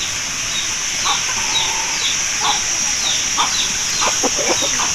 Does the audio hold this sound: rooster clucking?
yes